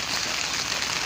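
Rain keeps falling on a rooftop planted with potted trees, heard as a constant, fairly loud broadband hiss that sounds almost like distant applause, with no one speaking.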